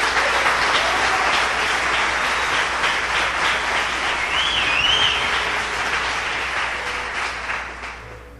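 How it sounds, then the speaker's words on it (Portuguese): An audience at a Catholic church service applauds in a sustained wash of clapping, fairly loud and even, with a few faint vocal whoops rising briefly before the applause tapers off near the end. "Vamos mais uma vez aplaudir a Igreja Católica por isso?"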